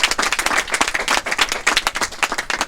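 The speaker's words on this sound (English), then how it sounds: "I think that deserves a round of applause." An audience at a political event in Maryland applauds, a burst of distinct, close, fairly sparse clapping that keeps going for a few seconds.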